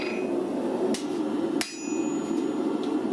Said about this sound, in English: Now I'm cutting off that excess that I didn't actually need.